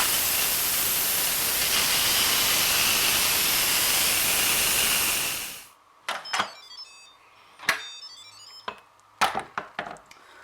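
An Instant Pot lets out a loud, steady rush of steam on quick release for several seconds, then cuts off abruptly, followed by a few scattered clicks and clatters.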